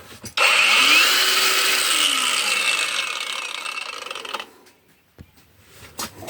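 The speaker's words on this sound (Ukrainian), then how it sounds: "Так що зараз переспитаємо на болгарки цього акумулятора." A cordless angle grinder whines at high speed while cutting through 12 mm rebar, a harsh sustained grind lasting several seconds before spinning down, followed by faint clicks.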